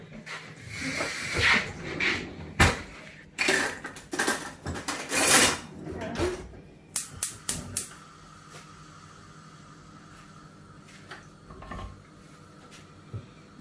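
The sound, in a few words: stirring sloppy joe mixture with onions in a pan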